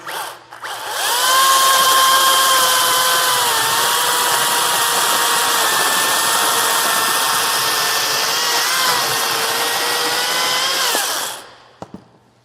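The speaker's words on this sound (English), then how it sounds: "this piece of wood, it's got a lot of cracks on the end, and so I'll just chop off about an inch, 2 inches maybe" A power saw cuts a cracked inch or two off the end of a piece of branch wood for a bowl, a loud, steady, high whine held close for about ten seconds before stopping, with no talk.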